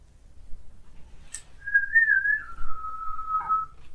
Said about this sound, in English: He whistles as the wind comes from the north.